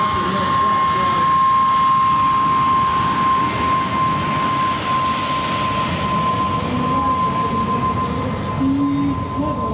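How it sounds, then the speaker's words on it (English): Thom Richard's P-40 Warhawk, a V12 propeller warplane, makes a sustained, loud engine roar with steady droning tones as it flies at the 2024 Westmoreland County Airshow. "Thom Richard, the P-40 Warhawk."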